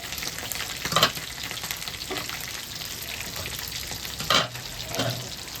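Chicken pieces for homemade chilli chicken fry in a pan with a steady close sizzle, and two louder bursts of stirring or turning stand out against the hiss. No one speaks.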